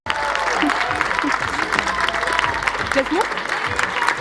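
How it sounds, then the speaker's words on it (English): Audience applause at a youth dialogue session on climate adaptation action, welcoming the UN Deputy Secretary-General: steady, dense clapping from a large crowd that lasts the whole stretch, with a brief spoken remark over it. "Please, I want that you join me with a big, big applause to Amina Mohammed"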